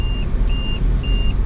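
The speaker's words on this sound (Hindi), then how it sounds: "देख रहे हो कितने आराम से गाड़ी जो है चढ़ गई" A car climbing a steep slope in low gear: steady engine rumble close by, with three short, evenly spaced electronic beeps over it.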